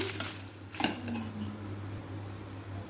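A utensil stirring frying ingredients in a pan, with a few scraping knocks over a steady low hum and faint sizzling background, no talking.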